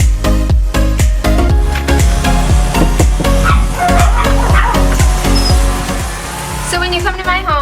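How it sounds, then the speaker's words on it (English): Two small dogs bark a welcome greeting inside a home. The sharp barks repeat in a quick, steady rhythm close by, and a voice can be heard underneath. "that's the greeting you get from my two little dogs. Every person that comes gets the welcome barking greeting."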